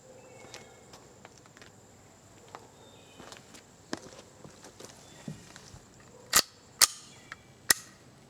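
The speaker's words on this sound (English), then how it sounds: "And we'll shoot them with the bolt locked shut." A .22 rimfire semi-automatic rifle fired with its bolt locked shut gives several sharp, sudden cracks late on, spaced about half a second apart, above faint clicks and handling noise, with no talk.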